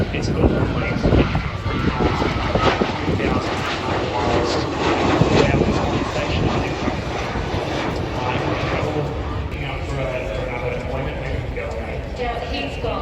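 An aircraft with its landing gear down flies past at an airshow, a steady loud engine roar that swells slightly midway and carries on throughout, with people talking over it.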